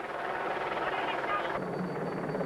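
A helicopter flies over a mountain stage of the 1997 Tour de France from Pau to Loudenvielle, its rotor a constant loud drone with a commentator talking over it.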